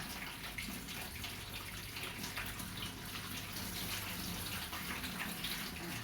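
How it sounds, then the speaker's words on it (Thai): Cold tap water runs in a strong, continuous gush to rinse cassia leaves, steady and close for the whole stretch. "เสร็จแล้วเราก็ปล่อยน้ำเย็นใส่ค่ะ ปล่อยน้ำเย็นล้างเลยค่ะ"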